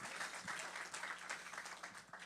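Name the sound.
audience applause at book event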